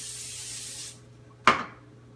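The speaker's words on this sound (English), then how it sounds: "So you take off the lid and you spray cooking spray." Cooking spray hisses from a can onto a baking pan for cookies, a steady close spray for about a second, then a short sharp second burst that fades quickly.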